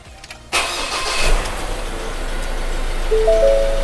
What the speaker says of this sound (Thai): นี่นะครับสตาร์ทเครื่องดูนะครับ